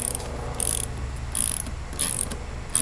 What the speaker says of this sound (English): switch your socket set to loosening setting, which is actually tightening setting in a mower.